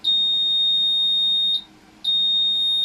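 Long, steady high-pitched beep from a car ECM during an Easy Scan V3 Pro reset, loud and alone, cutting off briefly before the same tone resumes.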